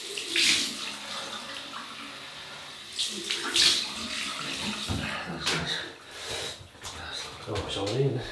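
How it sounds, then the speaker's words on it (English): An alum block for wet shaving rinsed under running tap water, a steady near splashing flow with brief louder surges, while someone talks throughout. "we've just used this green block, Alum Block, and we'll rinse that off now"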